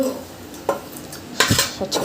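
A utensil scraping and clinking against a pot while stirring during home cooking, a few sharp metallic knocks and scrapes at close range.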